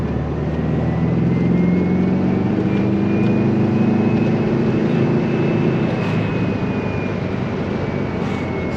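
A 1961 Volkswagen Beetle's air-cooled engine drones steadily while driving, a loud, constant low hum with road and wind rumble from inside the car, unbroken and without talk.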